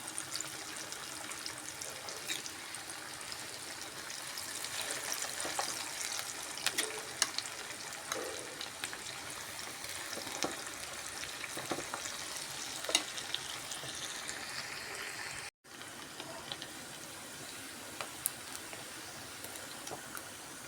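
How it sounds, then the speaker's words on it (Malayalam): Chicken pakoda pieces deep frying in hot oil, a steady dense sizzle and crackle throughout with occasional sharper pops and scraping stirs, fairly quiet and close, with no talking. "നമ്മുടെ പക്കവട എല്ലാം എണ്ണയിലേക്ക് കോരിട്ട് പൊരിച്ചെടുക്കാം"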